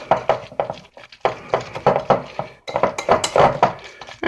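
A spoon clinks and scrapes against a bowl while mixing meatloaf ingredients with Italian seasoning and oregano, in loud irregular bursts of knocking and scraping with short pauses.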